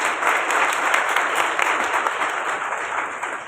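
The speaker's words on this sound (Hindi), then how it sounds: "भरपूर तालियों।" Steady, loud applause from an audience at a Bible Marathon opening ceremony, continuous dense clapping filling the whole moment without pause.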